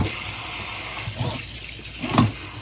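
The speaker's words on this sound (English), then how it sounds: "The reason why we turn on the cold water is because we want to slow down the cooking process." Cold tap water runs from a kitchen faucet over a strainer of cooked noodles, a steady mid-level rushing hiss with a brief louder splash near the end and no talking.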